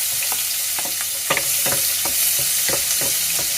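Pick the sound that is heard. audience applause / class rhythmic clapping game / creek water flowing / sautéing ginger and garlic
sautéing ginger and garlic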